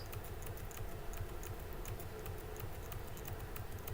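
Rapid, continuous small clicks of a computer mouse being pressed and moved while painting in Photopea, steady and close over a faint background hum.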